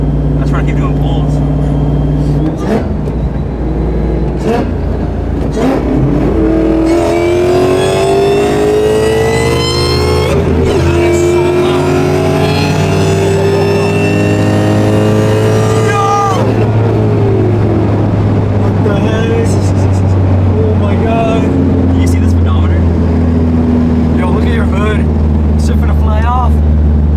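An 850 horsepower supercharged Ford Mustang engine roars through hard pulls, its pitch climbing steeply through the gears with supercharger whine, very loud and close inside the car, while people talk over the noise.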